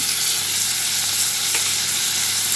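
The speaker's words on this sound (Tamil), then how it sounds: "தக்காளி சேர்த்துட்டு நல்லா வதக்கி விட்டுருங்க" Onions and tomatoes sautéing in a pan for crab curry, a steady close sizzle and hiss with faint stirring throughout.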